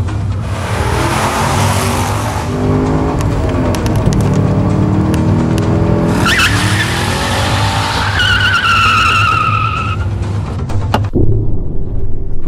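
A Chevrolet Camaro driven hard, its engine roaring loud and close while tires squeal and skid in long rising and falling sweeps, ending abruptly.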